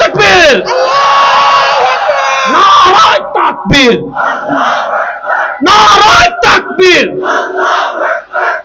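A large crowd at a Bangladeshi Islamic rally roars a religious slogan back in unison, loud, close bursts of massed shouting separated by short pauses.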